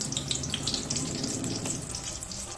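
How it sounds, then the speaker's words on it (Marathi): Potato vadas deep-fry in hot oil in a kadhai over a medium flame, giving a soft, steady bubbling sizzle with a faint crackle, quiet and without talk. "आपल्याला मीडियम फ्लेमवरच ह्या वड्यांना व्यवस्थित तळून घ्यायचंय"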